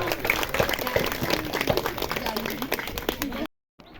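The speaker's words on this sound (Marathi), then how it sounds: "सर्वांनी जोरात टाळ्या" A crowd claps at a baby's naming ceremony in Mahad, with scattered clapping under a speaking voice before it cuts to near silence.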